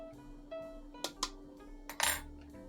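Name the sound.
cooked wheat berries being added to breakfast bowl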